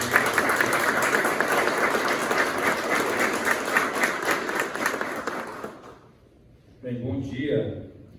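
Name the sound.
audience applause at ceremony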